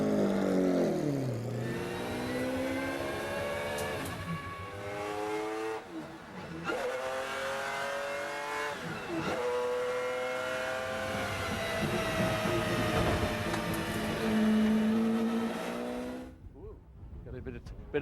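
A race car engine at Le Mans climbs through the gears, loud rising revs dropping with each shift and building again over and over, with talk running over the engine the whole time.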